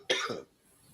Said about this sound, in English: not to cough like that